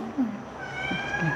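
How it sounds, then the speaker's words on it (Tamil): A cat meows close by in a home, with a short rising cry followed by a longer drawn-out call over steady background noise. "இதான் பூனை வளர்க்குறீங்களா? என்ன பேர்"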